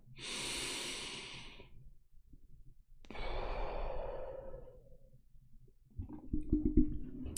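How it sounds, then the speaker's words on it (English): Deep breathing exercise: a long, close inhale, then a slower, audible exhale, followed by another short rushing breath with faint clicks, each clearly separated by quiet pauses. "Breathe in."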